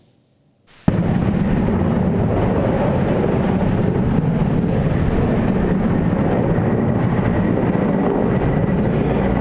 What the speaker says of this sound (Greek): Πυροσβεστικά ελικόπτερα προσπαθούν με στοχευμένες και συνεχείς ρήψεις νερού να κατασβέσουν το πύρινο μέτωπο